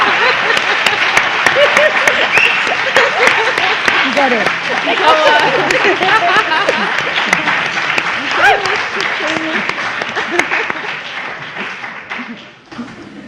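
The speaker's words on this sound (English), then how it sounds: "I want to clap for that." A conference audience applauds at length, steady clapping from a full room with voices talking over it, the applause thinning and fading near the end.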